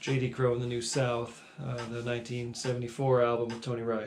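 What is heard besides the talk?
None of the usual background noises is heard.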